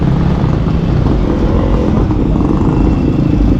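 Private cars and motorcycles passing on a road, a loud continuous rumble of engines and tyres heard close up, with no talking over it.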